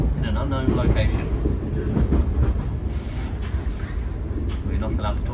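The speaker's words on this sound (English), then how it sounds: "We're on a train." Steady rumble and rattle of a moving passenger train heard from inside a carriage, continuous and fairly loud, with no talking over it.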